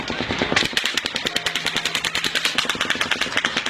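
Rapid automatic gunfire fires in a long, relentless burst at the Las Vegas country music festival shooting, loud cracks repeating at a steady fast rhythm after a brief louder onset.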